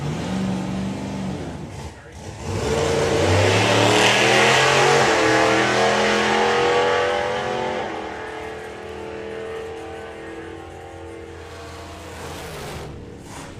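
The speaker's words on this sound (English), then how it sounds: "The car was hunting quite heavily there, and then breathed heavily at the end." A hot rod drag racing car's engine hunts roughly, then breathes hard in a long, loud rev that swells and slowly fades, with a voice talking over it.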